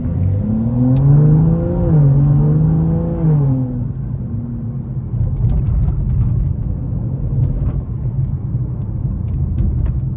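A tuned BMW 435i on a test drive accelerates hard, its engine note rising and shifting for a few seconds before settling into a steady, loud road rumble and whir from inside the car.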